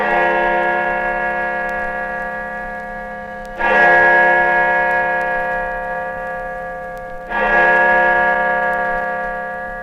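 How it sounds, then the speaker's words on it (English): Great George, the large bell in the Bristol University tower, tolls three deep strikes roughly three and a half seconds apart, each ringing loud and full before slowly decaying into the next. "This is the bell in the tower of Bristol University."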